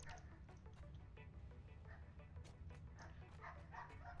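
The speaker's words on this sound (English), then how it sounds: "Oh my god, that fucking dog outside." A corgi barks outside in repeated sharp yaps with a few whimpers, faint and distant through a window over a low steady hum.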